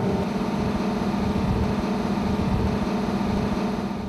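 A Formula 353 FasTECH performance boat from 2010 drones steadily while running through prop ventilation, its engine roar a constant, dense rumble with wind and water noise and no break throughout.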